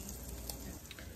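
Food frying under a pressing cast iron pan, a steady soft sizzle with faint crackles throughout a brief moment.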